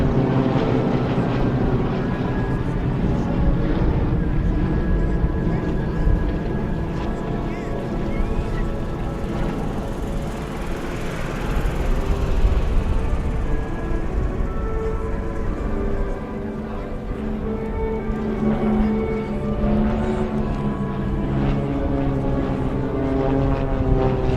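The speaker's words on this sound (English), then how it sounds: "Learning to fly on these types of airplanes you see flying overhead." Steady propeller engine drone from World War II trainer aircraft, including T-34 Mentors, fills an air show, swelling and fading as planes pass overhead, with faint voices underneath.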